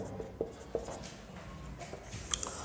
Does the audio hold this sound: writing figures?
yes